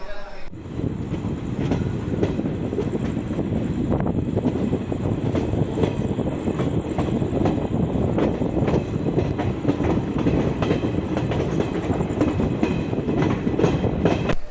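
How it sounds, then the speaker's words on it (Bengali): A train departing Malda Town station rumbles and clatters steadily along the rails, loud and continuous, with faint voices mixed into the din. "আমাদের ট্রেন ছাড়লো মালদা টাউন থেকে"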